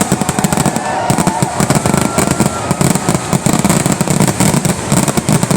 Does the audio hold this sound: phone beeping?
no